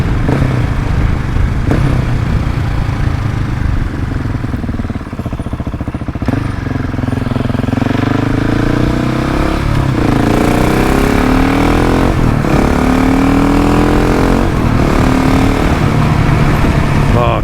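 A Husqvarna 701 Enduro single-cylinder motorcycle engine thumps loudly and steadily while riding, rising and falling in pitch as the rider accelerates through the gears, with a voice talking over it at times.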